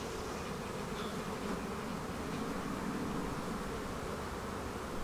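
Honey bees buzz densely around beehive frames loaded with brood, a close, continuous droning hum with no speech over it.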